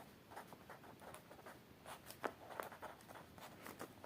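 Chalk or marker strokes on a board while a Class 10 maths problem is worked out, a quiet run of short scratchy taps and scrapes in uneven rhythm, close and faint, with no talking.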